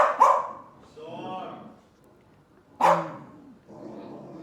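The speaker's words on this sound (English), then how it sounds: "and that's my dog. You see him jumping up the window?" A dog jumping up at a window barks in two loud, sharp bursts separated by a pause, each followed by softer whimpering yips, close by in a quiet room with a person speaking between them.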